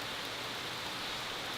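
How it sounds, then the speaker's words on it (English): Steady, soft hiss of rain from Hurricane Ida falling outdoors, a continuous even wash of drops with no voices, fairly faint throughout. "so the rain started."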